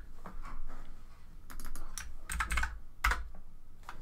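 Typing a command into a shell on a computer keyboard: a quick run of close, crisp key clicks in uneven bursts, with no voices.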